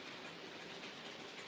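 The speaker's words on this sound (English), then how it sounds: "we can run that as a little factory workers train." A model railway train runs on a home layout as a small factory workers' service, giving a faint, steady, continuous rolling rumble with light clattering throughout.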